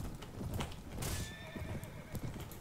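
Horse in the medieval video game Anno Domini 1257, a sharp whinny rising over rapid clip-clop hoofbeats, then a couple of further hoof strikes, moderately close with no talking.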